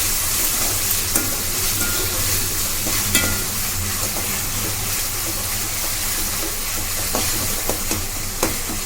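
Tomatoes with salt are stirred and mashed in a hot frying pan, giving a steady close sizzle and hiss with repeated scraping strokes of a spoon against the pan for the whole stretch, no one speaking.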